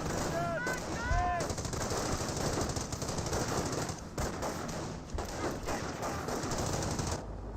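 Rapid, loud bursts of MG42 machine-gun fire rattle from a Company of Heroes battle, a dense continuous chatter with brief whistling tones early on.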